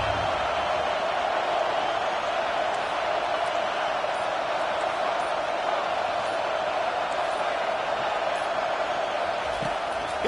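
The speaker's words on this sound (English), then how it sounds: "listen to the roar of this crowd" A packed football stadium crowd roars in a steady, continuous wash of noise that holds at the same dense, loud level throughout with no breaks.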